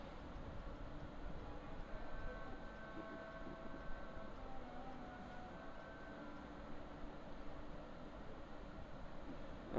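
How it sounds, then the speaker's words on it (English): Train passing a station in the video game Railways of Love, a low continuous rumbling hum with faint tonal whines, fairly quiet and steady throughout. "When the train passes the damn station,"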